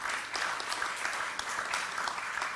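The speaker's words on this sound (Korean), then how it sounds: "한번 박수 한번 주시죠." At a Korean welfare policy forum, an audience applauds a children's welfare association head as he is introduced. The clapping is steady and moderately loud, with a few sharper claps standing out, and nobody speaks over it.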